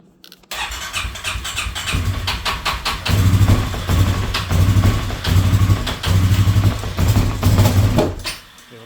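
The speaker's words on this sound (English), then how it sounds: "If you go to start it, it'll start up and just die, and it won't start." A Polaris Sportsman 570SP ATV engine cranks and fires, then runs roughly with a loud, pulsing, uneven throb for several seconds before it sputters and dies.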